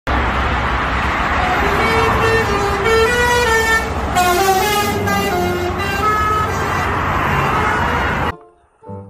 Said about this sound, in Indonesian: Wah, yang ini ada bus Setia Negara teman-teman.